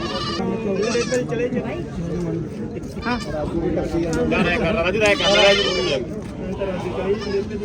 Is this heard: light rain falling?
no